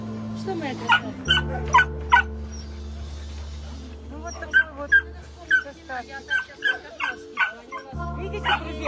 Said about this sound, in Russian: Красивая собака.